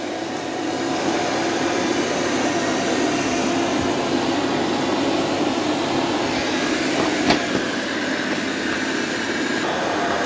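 Dreame X30 Ultra robot vacuum mopping a floor beside a wall, a steady whirring hum with broadband airflow noise running continuously at close range, with a brief click near the end.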